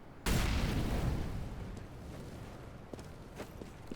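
An incendiary grenade goes off in a video game with a sudden loud boom and a rushing burst that fades over a second or so, followed by quieter crackles and a few light ticks.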